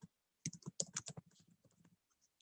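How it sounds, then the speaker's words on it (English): A name is typed on a computer keyboard in a quick, quiet run of close key taps that bunch together at first, then thin out and slow before stopping. "Since you cannot sign a website, you simply type your name."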